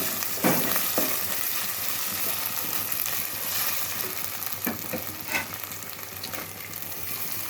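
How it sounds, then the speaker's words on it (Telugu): Ginger garlic paste frying in a pan of curry gives a steady close sizzle. A few louder scrapes of stirring cut through it, with no talking. "ఇప్పుడు కొంచెం అల్లం వెల్లుల్లి పేస్ట్ వేద్దాం ఫ్రెండ్స్"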